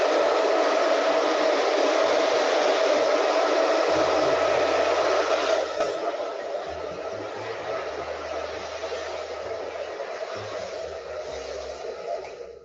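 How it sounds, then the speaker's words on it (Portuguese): A hair dryer blows steadily during a salon blow-dry, a loud, close, continuous rushing whoosh that shifts slightly in tone partway through as the airflow changes. "trabalhe o secador regulando ele, né? Se está muito forte, abaixa o fluxo do vento, coloca na velocidade média aí e finaliza o trabalho."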